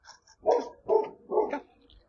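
A dog barks three times in a quick, even rhythm, close and fairly loud, with brief quiet gaps between each bark.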